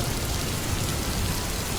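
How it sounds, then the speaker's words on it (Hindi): Steady rain pours down in an animated Hindi moral story, a dense, even wash of falling drops with a soft low rumble, continuous and close with no voices. "बारिश है कि रुकने की नाम ही नहीं ले रही"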